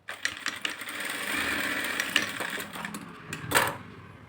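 A sewing machine stitching a blouse lining whirs steadily at close range, with a few light metallic clicks and a brief louder burst near the end.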